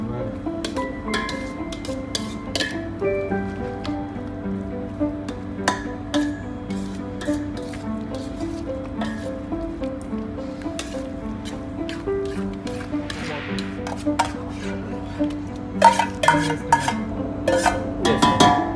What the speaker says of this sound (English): Need to mix well.